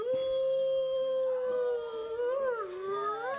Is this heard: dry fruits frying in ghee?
no